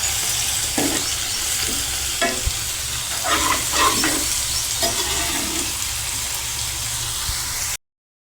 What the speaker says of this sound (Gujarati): અને હળદર તેને હલાવીને મિક્સ કરી લઈશું